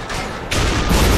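Heavy anti-aircraft gun fire in the video game The Saboteur, a loud sustained rumbling barrage of booms that thickens partway through and keeps going to the end.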